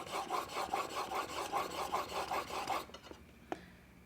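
The blade of a No 8 jointer plane is sharpened on stones in a steady back-and-forth rhythm of about a dozen close, rasping strokes, then the rubbing stops and a single light click follows.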